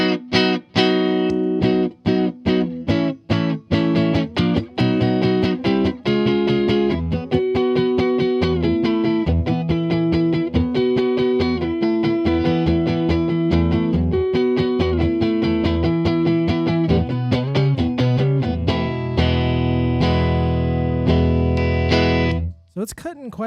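Electric guitar on a clean setting with the tone knob turned all the way up, bright and cutting, strummed chords and picked notes ringing loudly and steadily, with a few pauses near the end.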